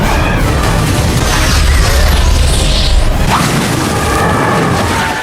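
An explosion from the Van Helsing movie blasts as a loud, sustained roaring boom with whooshing debris, dense and continuous for about five seconds.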